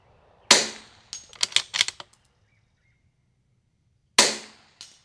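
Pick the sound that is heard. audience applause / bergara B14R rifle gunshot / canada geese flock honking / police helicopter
bergara B14R rifle gunshot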